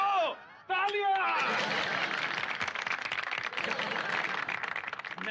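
Studio-audience applause breaks out in a Hindi family sitcom scene after gifts of Ratnagiri Hapus mangoes are announced, a dense sustained wash of clapping that follows a brief line of speech.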